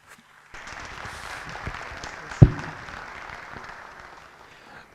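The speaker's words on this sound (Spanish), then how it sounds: "Con un aplauso" A seated audience gives a speaker a welcoming round of applause that starts abruptly and holds as a steady, moderate wash of clapping, with one sharp knock partway through, before tapering off.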